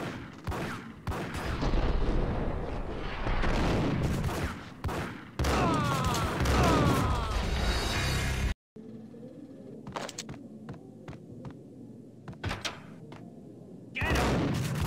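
Gunfire from the Max Payne PC game rattles out in dense, loud bursts over the first half, then drops to scattered single shots and thuds after a sudden cut, with a final burst at the end.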